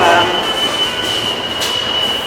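New York City subway train heading downtown, loud and close, with a steady high-pitched wheel squeal over rumbling rail noise.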